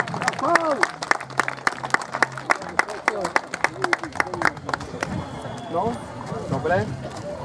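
Applause at a trail race award ceremony: a crowd claps in sharp, irregular rhythmic bursts under ongoing talk, with the clapping thinning out toward the end.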